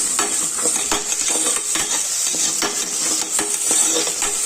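Crushed ginger-garlic paste fries in a pan while a utensil stirs it, scraping and clinking in irregular strokes over a constant bright sizzle, close and fairly loud, with no talking.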